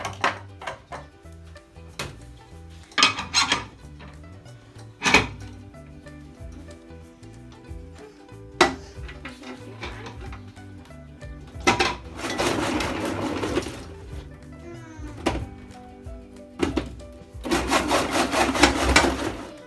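A vegetable-cutting machine dices carrots and onions into cubes, giving repeated bursts of clattering and rough grinding with brief pauses between them. The sound is close and fairly loud, with no voices.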